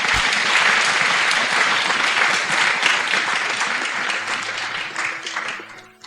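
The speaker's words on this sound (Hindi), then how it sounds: "प्रभु के लिए एक बार जोर ताली बजाएंगे।" A church congregation claps loudly and steadily throughout a fasting prayer service, a dense sustained wave of applause that fades a little at the end.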